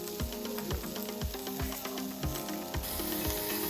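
Aged Korean beef sizzles on a grill at a Korean beef restaurant, giving a steady close crackle with regular soft pops and spits throughout. No one speaks.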